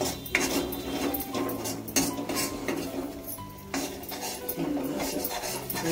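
Metal spoon stirring and scraping pasta masala in a pan, with irregular clinks and knocks against the pan and a faint sizzle underneath; no talk.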